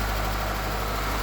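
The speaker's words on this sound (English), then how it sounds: "with a shot of the motor running" A 2017 Nissan Altima engine idles in a steady, close, smooth drone with a low rumble and no other sounds.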